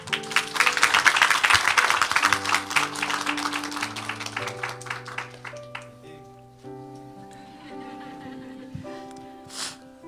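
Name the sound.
church congregation applause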